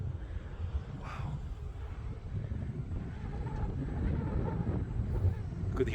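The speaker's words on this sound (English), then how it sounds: "Could hear the wind." Wind gusts buffet the microphone on an exposed mountain hiking trail at Coronet Peak in New Zealand, a continuous low rumble with brief rushes of air near the start and no speech.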